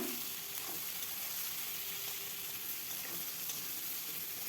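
Chunks of pointed gourd (potol) fry in a pan, giving off a soft, even sizzle and hiss as water releases, faint and continuous with no talk.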